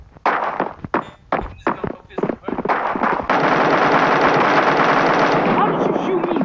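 Rapid automatic gunfire in the video game Bullet Force, bursts of close, punchy shots in quick rhythm that merge into a sustained roar of fire, with a player talking over it.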